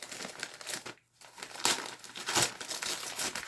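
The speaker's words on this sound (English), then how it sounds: "Wrapped in wrapping paper." Wrapping paper being crinkled and torn open from around a small package of postcards, close-up rustling in uneven bursts, one brief pause, then louder crumpling.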